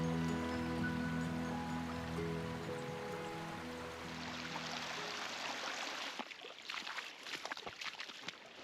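Water of a shallow creek splashes and trickles as hikers wade across it in Garigal National Park, New South Wales, a close, uneven sloshing that grows louder in the second half with no talk.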